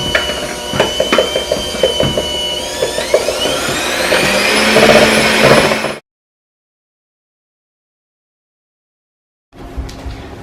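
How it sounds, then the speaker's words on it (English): An electric mixer running on low speed as flour mixture is added to cake batter: a loud motor whine with a rising pitch sweep and mechanical rattling, then it cuts to sudden silence before a faint hum returns. "The mixer on low, add the flour mixer to the batter."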